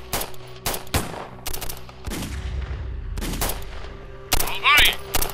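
Machine gun fire in a firefight, a series of sharp bursts and single shots echoing at close to medium range, with shouted voices during a call to cease fire.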